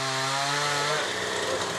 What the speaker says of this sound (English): Using chainsaws, the team now cut large openings into the wood.